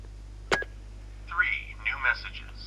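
A telephone in The Walking Dead video game, heard as a single sharp click followed by a few brief electronic beeps and tones over a low steady hum, close and fairly quiet.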